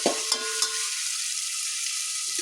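Rice dry-roasting in a pan without water for masala bhat, a steady faint hiss and rustle with a few light scraping taps near the start, no voices.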